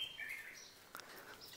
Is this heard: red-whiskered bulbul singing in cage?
yes